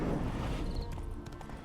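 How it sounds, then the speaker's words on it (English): Hooves of a horse clip-clopping in The Witcher 3 video game, a steady rhythmic trot heard close and fairly loud over a dense low rumble of in-game ambience, with no talking. "Let us ride, Roach."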